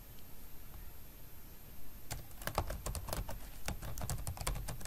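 Fingers typing on a computer keyboard, a quiet stretch giving way to a quick run of close, crisp key clicks in an irregular rhythm over a faint background hiss, with no voices.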